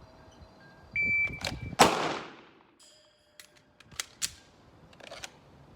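Handgun shots at an outdoor shooting range crack out as several sharp reports spaced irregularly, some louder and closer than others, with faint metallic clinks and quiet gaps between them. No one speaks.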